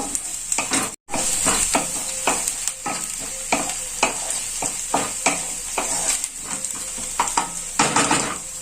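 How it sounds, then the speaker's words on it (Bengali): Chopped green chillies being stirred into frying onions, with a constant close sizzle under quick, rhythmic scrapes and clinks of a spatula against the pan. "এবার আমি এর মধ্যে কাঁচা লঙ্কা কুচিগুলো দিয়ে দেব। এটাকে আমি একটু নেড়ে নেব।"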